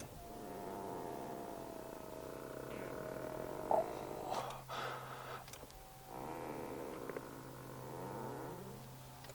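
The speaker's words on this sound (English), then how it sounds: "The material on these Brabus seats make an embarrassing squeaking sound when you move the seat" Brabus smart #1 seat upholstery squeaks and creaks as the seat slides back, giving a drawn-out rubbing squeal with a few sharper squeaks midway, close and quiet over a low steady cabin hum.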